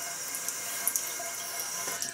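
A faucet runs in a steady, soft stream while makeup is rinsed off the face, with faint splashes and drips.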